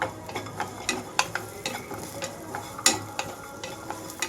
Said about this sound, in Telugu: రెండు నిమిషాల పాటు కొబ్బరి వేయించుకోవాలి.